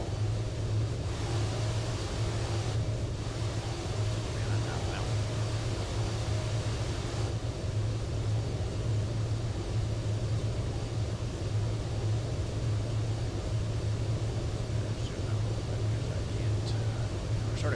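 A fast aircraft's engine in Microsoft Flight Simulator drones steadily as a low, constant hum with broad airy noise, unbroken for the whole stretch at moderate level.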